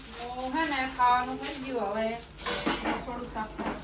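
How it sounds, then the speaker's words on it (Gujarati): Metal pots and utensils clatter and scrape as they are scrubbed by hand in a village home, with voices talking over the washing throughout. "એક વાસણ તો ઘસી નાખ્યા"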